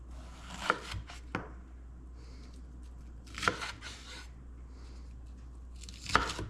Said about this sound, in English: I'm just gonna chop up jalapeno, got a Roma tomato, and then probably do about a quarter of this onion.